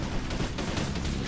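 A vehicle explodes during a Halo multiplayer match, a short burst of dense crackling blasts and debris noise, fairly quiet and without talk.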